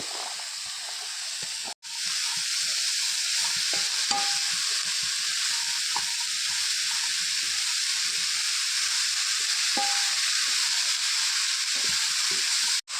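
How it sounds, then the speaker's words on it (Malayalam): Ridge gourd stir-fry hisses steadily in a hot pan as it is stirred, with soft scraping and a couple of sharp knocks, and no talking. "ഇനി നന്നായിട്ട് ഇളക്കി യോജിപ്പിക്കാം"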